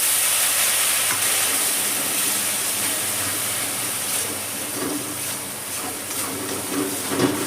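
Chicken curry spice paste sautés in a pan after water is added, giving a close, continuous hiss and sizzle with faint scraping stirs, easing slightly in loudness partway through, and no voices.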